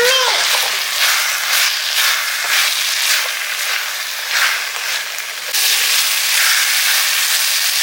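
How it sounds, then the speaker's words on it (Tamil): Onion, garlic and ginger sautéing in a pan, a steady close sizzle and hiss that runs continuously throughout with slight surges, while a person talks over it. "இது எல்லாமே சேர்த்து இன்னும் கொஞ்சம் வதக்கலாம்"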